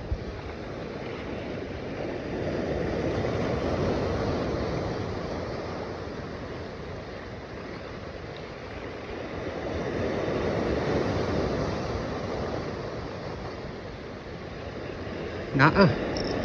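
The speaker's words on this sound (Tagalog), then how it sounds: "grabe yung alon." Rough sea waves after a tropical storm roar without pause, swelling and easing in long surges mixed with wind noise.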